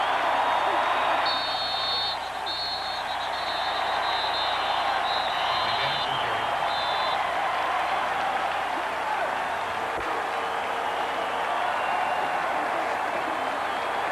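In the final minute of a 1994 Michigan at Ohio State college football game, a huge stadium crowd roars and cheers steadily. The dense, sustained wall of noise fills the air, with commentators talking faintly over it.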